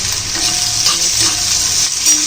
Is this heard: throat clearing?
no